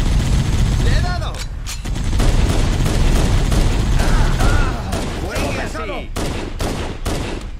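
Rapid bursts of gunfire from the shooter game Halo: Combat Evolved rattle almost nonstop, with heavy booms and explosions throughout while a voice shouts excitedly over the combat.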